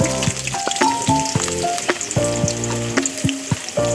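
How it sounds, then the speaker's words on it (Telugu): Onion sizzling steadily in hot oil in a pan, with mint going in as the onions brown for an egg rice dish, under a continuous bright hiss that runs beneath tonal music. "ఆయిల్ వేడెక్కినాక ఆనియన్ వేసుకోవాలి"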